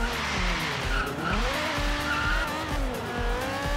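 Dodge Viper in Forza Horizon 3 driving hard with a steady engine roar and squealing, skidding tires, loud and continuous throughout.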